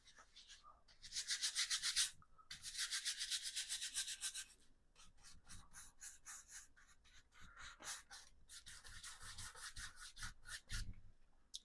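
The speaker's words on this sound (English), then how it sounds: "So just applying on the basic color, doesn't matter. Just scrub it on." A paintbrush scrubs basic color paint onto a black canvas in bursts of dry, bristly rubbing, some long and steady, others short and choppy strokes, close up with no talk.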